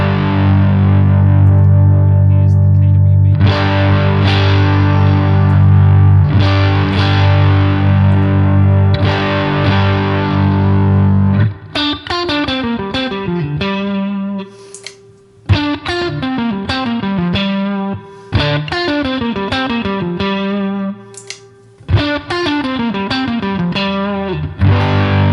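An electric guitar runs through a Top Secret OD overdrive pedal on a Helix, giving a loud, driven tone: one long sustained strummed chord rings out first, then a series of choppy chords and single notes.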